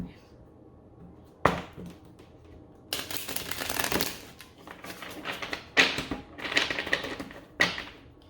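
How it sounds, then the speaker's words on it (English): Tarot cards being cut and riffled, with a sharp tap, then several bursts of rapid fluttering shuffles separated by brief pauses, close by. "let me just shuffle my card real quick. Cut and shuffle, cut and shuffle."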